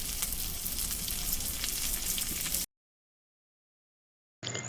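Pointed gourd, potato, eggplant, fish and fish roe fry in hot oil with a dense, crackling sizzle for a few seconds, then cut to silence before a short burst of sizzling returns.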